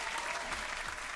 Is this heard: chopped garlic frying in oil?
no